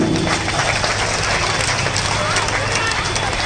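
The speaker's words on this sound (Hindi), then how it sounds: "आज आर्मी के लिए एक बार जोरदार ताली हो जाए" An audience at Rajwada, Indore, gives a loud, sustained round of applause for the army during a spiritual leader's address, a dense wash of clapping with crowd murmur throughout.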